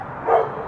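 Ruby, a pet dog in a family home, gives a single brief bark that swells for a moment over a soft steady background, close by and fairly quiet.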